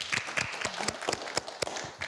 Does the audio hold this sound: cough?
no